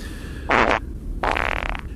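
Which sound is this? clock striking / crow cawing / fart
fart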